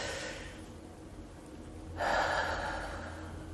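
A children's breathing exercise: a soft, drawn-out inhale followed by a louder, breathy exhale, close by with no talking.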